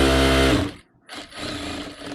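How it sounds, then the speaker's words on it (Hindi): A sewing machine stitches a seam on a dress made from an old saree, a loud close whirring run that stops abruptly, pauses briefly, then starts again. "और इस पे एक सिलाई लगा देंगे"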